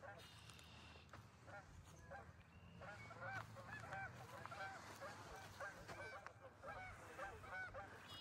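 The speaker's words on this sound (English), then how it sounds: "The geese. They are flying. They are back." Many geese honk repeatedly in flight in ragged overlapping calls, somewhat distant over a farm, over a low rumbling background with faint speech underneath.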